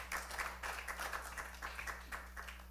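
A church congregation applauds the choir, steady distant clapping from many hands with a low electrical hum beneath it.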